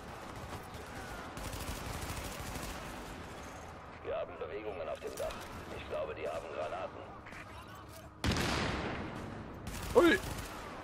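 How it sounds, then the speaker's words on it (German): Gunfire and explosions from the video game The Division: distant rattling shots and crackling bursts under people talking, then a sudden loud blast followed by another sharp explosion moments later. "Ja, die Explosionen hören sich ja auch cool an."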